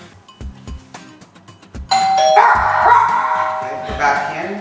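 A doorbell chimes loudly during a dog training session, its ringing tones sustained over the second half, while a small dog yips and whines and a voice speaks nearby.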